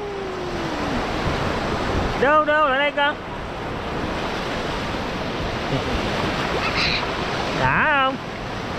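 Sea waves wash steadily on Long Hai beach on an overcast, drizzly evening, with a constant roar of surf and wind buffeting the microphone, while a few people speak briefly over it.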